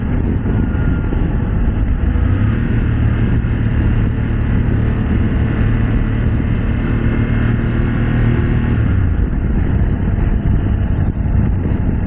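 A BMW F 900 GS Adventure motorcycle rides over bumps, its steady engine drone loud and continuous throughout with a rising and falling pitch, heavy low rumble and wind noise, and no talking.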